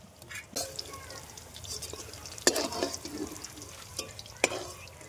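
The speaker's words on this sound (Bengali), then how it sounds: "এবার এইগুলোকে আমরা হালকা করে ভেজে নেবো" Small cut pieces of paneer fry lightly in a pan with a faint sizzle, broken by several sharp utensil clinks and scrapes as they are stirred.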